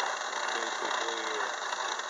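A milling attachment grinds away at a 64-tooth gear, giving a steady, buzzing machine whir with a faint rattle, continuous and fairly close.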